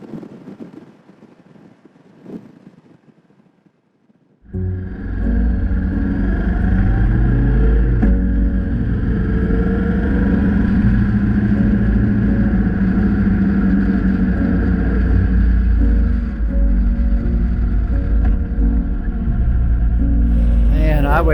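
A motorcycle cruises at about 80 mph on a Mexican highway between Real de Catorce and Monterrey. After a quiet opening with a soft voice, a loud, constant roar of wind and engine drone comes in and holds steady.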